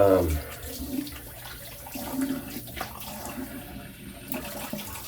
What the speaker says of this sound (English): gonna get my razor warmed up with some hot water from the sink